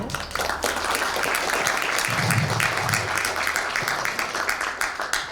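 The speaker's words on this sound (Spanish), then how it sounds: "Aplausos para él, por favor." Audience applause fills a conference hall at an international environmental indicators conference, a steady dense wash of clapping sustained throughout with a brief murmur of voices underneath.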